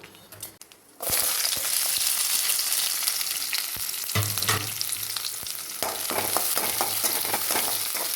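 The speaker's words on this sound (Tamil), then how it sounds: "இது நல்லா வெங்காயம் நல்லா வதங்கியிருக்கு" Chopped onions fry in hot coconut oil with popped mustard seeds, giving a steady, close sizzle that swells loudly after a quiet first second and carries on with occasional stirring scrapes.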